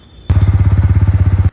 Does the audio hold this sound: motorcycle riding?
yes